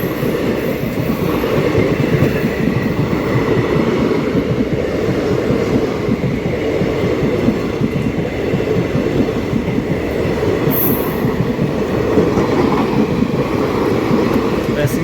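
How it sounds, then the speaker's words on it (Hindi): The Dhanbad-Patna-Singrauli Express passing at night, a continuous loud rumble of railroad cars with rhythmic wheel clatter and rail noise throughout, close by, with faint voices in the background. "ये धनबाद पटना सिंगरौली एक्सप्रेस है और ये गुजरेगी"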